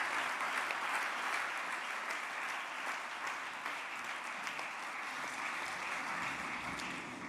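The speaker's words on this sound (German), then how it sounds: "Frau Hassel, entnehmen Sie dem tosenden Applaus den Respekt" Steady, dense applause from a large crowd, continuous and even throughout with no pauses.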